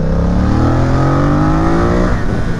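A Triumph F900R motorcycle engine, 105 horsepower, revs up loudly on a race track, its pitch climbing steadily as it accelerates close by, with no voices.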